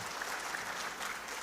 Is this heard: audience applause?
yes